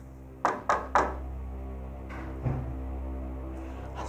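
Three firm, evenly spaced knocks bang on a door in an old house, followed after a pause by a single duller thud. All are fairly close, with quiet room hum between them.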